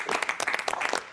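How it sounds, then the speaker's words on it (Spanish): A brief burst of studio applause greets a guest on a TV show, steady clapping from a small audience. "Un aplauso para Leo"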